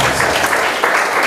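Church congregation cheering and clapping together in loud, dense bursts of applause and shouts, sustained through the short moment with no single voice standing out.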